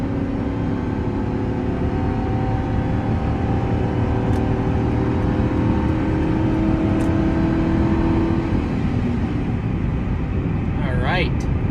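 A 2005 Chevy Silverado towing 5,000 pounds with the accelerator floored, its engine droning loud and steady with a slowly rising hum and road noise, heard from the cab.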